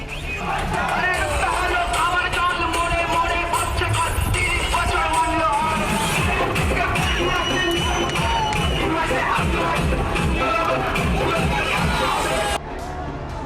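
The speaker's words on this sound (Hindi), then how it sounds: "जीत के जश्न में बावली हुई भीड़ देश के उन सभी राज्यों में दिखी" A large crowd celebrating an election victory during vote counting, a loud continuous roar of cheering, shouting and babble with horns and whistles mixed in, steady throughout.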